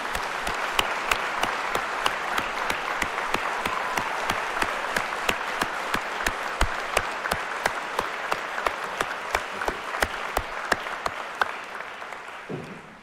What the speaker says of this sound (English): How about a big round of applause for Dr.